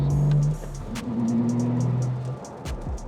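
An 800 hp BMW M2 G87 with a single-mass billet flywheel clutch pulls away from a stop, its engine giving a low, throaty rumble that rises briefly and settles, heard fairly close with no talking.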